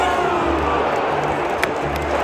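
A packed stadium crowd at a Real Madrid versus Manchester City Champions League match cheers and roars steadily, a dense, loud wall of voices with scattered whoops and shouts throughout.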